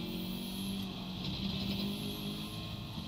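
A race car engine in a racing video game, a steady high-pitched whine that holds near constant revs throughout, loud and continuous with no voices over it.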